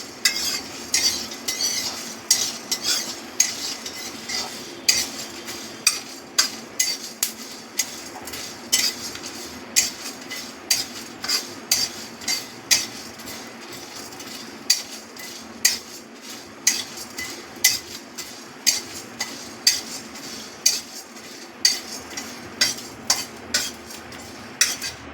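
Spice masala dry-roasting in a pan for kachuri and potato curry, a utensil scraping and clinking against the metal in quick, steady strokes over a faint background hiss, close and fairly loud with no talking.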